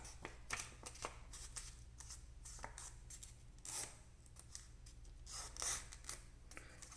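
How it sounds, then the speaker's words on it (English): A square sheet of origami paper being folded in half gives soft, steady crinkling and rustling with sharper crisp creasing swipes, close and fairly quiet, no talking. "So start by folding it in half."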